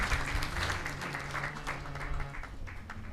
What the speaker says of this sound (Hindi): सभी संतों के लिए जोरदार तालियां बजाएं